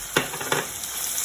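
Ginger and garlic frying in olive oil in a pan, a steady hiss with two brief stirring scrapes, close and alone.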